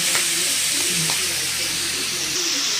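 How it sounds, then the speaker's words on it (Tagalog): Bicol Express being sautéed and stirred in a pan, a steady close sizzle and hiss with occasional scrapes and clinks of a utensil running throughout. "Kinigisa, sinahalo-halo ko na siya"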